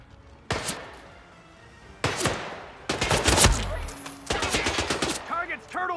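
Gunfire rings out in the Hitman video game while guards are being cleared out: separate sharp shots, then a dense rapid burst and further quick bursts that trail into echoing impacts.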